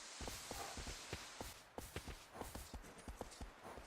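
Horse hooves clip-clop in a steady, uneven rhythm inside a cinematic video game, each hoofbeat a sharp, close thud over a constant background wash.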